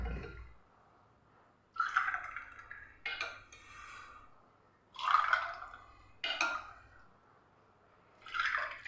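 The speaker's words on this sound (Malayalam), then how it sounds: "ഇനി നമുക്കിതിലേക്ക് ഈ ഒരു ഡ്രിങ്ക് ഒഴിച്ചു കൊടുക്കാം" Raw mango drink poured into glasses holding ice cubes makes several separate bursts of liquid filling and dripping, close and fairly soft, with quiet gaps between the pours.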